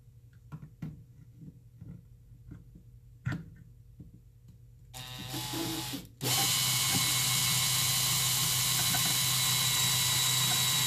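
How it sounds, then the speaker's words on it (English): A few sharp clicks and taps, then a power drill spins up and bores steadily and loudly through material for several seconds, close by, with no talking. "we'll drill the larger hole right there"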